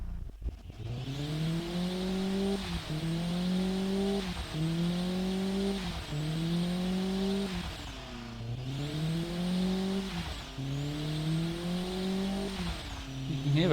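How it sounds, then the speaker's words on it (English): Turbocharged car engine on a dyno running at 13 psi boost, revving up repeatedly in long rising pulls with brief drops between, loud and close, the wastegate hissing and fluttering as each pull peaks. "You can hear that wastegate."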